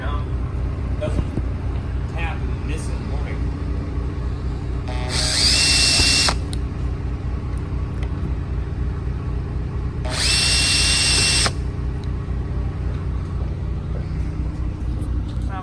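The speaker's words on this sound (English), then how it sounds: "You can drill the hole and you don't go too far." A drill bores holes into a car, heard as two short, sharp bursts of a few seconds each over a constant low engine-like hum.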